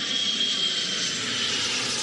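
A staged airplane flying effect in an Egyptian stage comedy plays just before the plane crashes into a tower: a steady, loud jet-engine roar with a faint high whine, heard alone.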